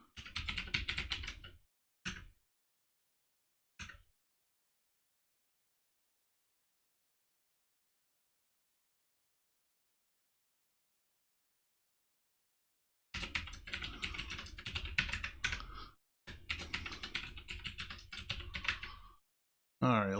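Computer keyboard typing as a password is entered while setting up a new user account on Ubuntu 21.04, in two clear bursts of rapid keystrokes with a couple of isolated taps between them and a long silent gap.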